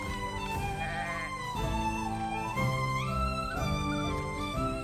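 Sheep bleat in a video game, several wavering, nasal calls overlapping one after another over a soft background tune, fairly close and clear.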